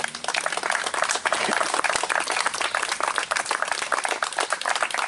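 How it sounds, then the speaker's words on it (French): Audience applause at an anniversary gathering, a dense, steady clatter of many hands clapping continuously for several seconds with no talk over it. "je pense qu'on peut chaleureusement les remercier et les applaudir"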